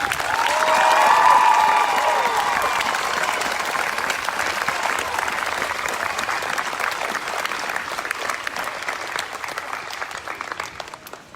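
A large outdoor crowd at a Black Lives Matter rally applauds with a few cheers and whistles, the clapping loudest at the start and slowly thinning as it carries on.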